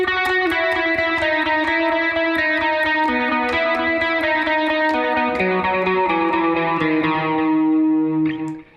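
Electric guitar with distortion and effects playing the main riff, a rapid, even stream of picked notes ringing over a shifting melodic line, loud and close, fading out at the end.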